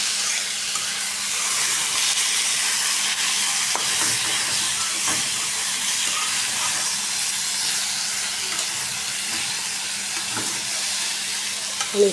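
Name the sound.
leafy greens frying in hot oil in a wok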